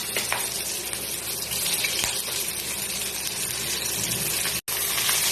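Green chillies and black cumin crackle in hot oil as a tempering for a pomfret curry, a loud, steady, close sizzle that runs throughout with one brief dropout near the end.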